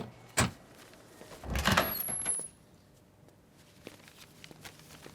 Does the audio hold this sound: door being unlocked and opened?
yes